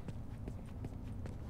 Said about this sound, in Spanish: He oído al puto caballo ahí detrás.